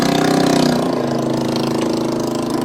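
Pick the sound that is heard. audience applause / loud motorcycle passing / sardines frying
loud motorcycle passing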